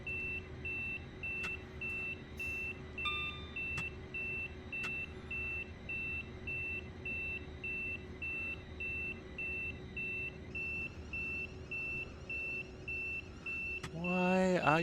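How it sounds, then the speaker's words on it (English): In Train Simulator Classic, a train cab's warning alarm beeps in a rapid, even pulse over the low cab hum. A few sharp clicks break in, and a voice rises briefly near the end. "Why are you beeping?"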